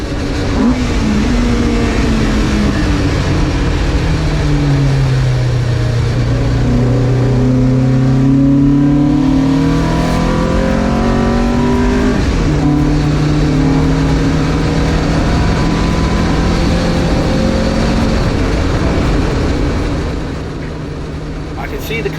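A Marcos race car engine screams through rising and falling revs while racing on the Donington circuit, loud and close from the cockpit, with gear changes breaking the sweeping engine note.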